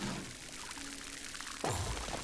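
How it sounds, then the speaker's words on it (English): Watering can tipped over plants in the video game Grow: Song of the Evertree, a soft steady pour of water that swells louder near the end, heard alone without talk. "let's go ahead and water the things on this side"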